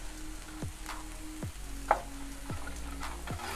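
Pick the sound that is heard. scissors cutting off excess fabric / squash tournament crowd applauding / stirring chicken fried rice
stirring chicken fried rice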